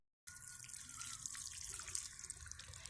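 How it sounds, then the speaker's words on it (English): Bare root roses in containers are watered with a steady, close stream of water splashing and trickling into the soil after a brief silent start. "let me water these guys in"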